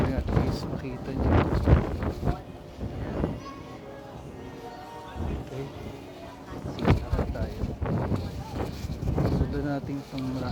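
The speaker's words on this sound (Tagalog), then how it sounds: "Ito, lakas ng hangin." Strong wind buffets the microphone on the open outdoor deck of the cruise ship Spectrum of the Seas, gusting in loud rumbling waves while someone talks over it.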